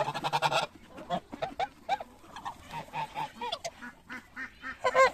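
Several geese honk repeatedly at a moderate distance, their harsh calls overlapping in an uneven, chattering rhythm.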